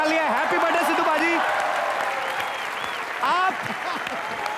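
A studio audience at a comedy show applauds for a birthday, continuous clapping and cheering with people talking and shouting over it.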